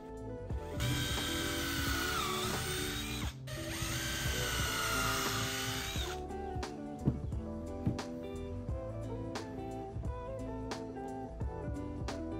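A power drill bores into a 2x4 piece of wood, a loud high whine that runs, pauses briefly, runs again, then gives way to a series of clicks and knocks.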